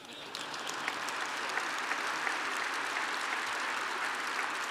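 An audience at a Georgia Chamber breakfast gathering applauds a speech, a steady wash of clapping that is fairly faint and distant and holds evenly throughout.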